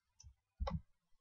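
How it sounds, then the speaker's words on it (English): Two quiet, short mouse clicks on a computer's copy button, a light tap followed by a slightly fuller click about half a second later, with silence between. "Click on copy."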